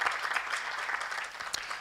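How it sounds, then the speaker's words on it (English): A conference audience claps for the vendors, a short burst of steady, moderately distant applause with no talk over it. "So let's give them a big round of applause."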